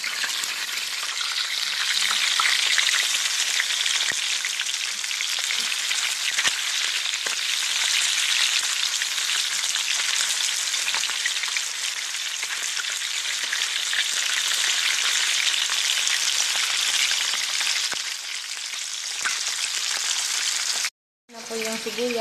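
Chicken for butter chicken frying in a pan, a loud, close, continuous hissing sizzle with occasional stirring clicks, cutting out briefly near the end.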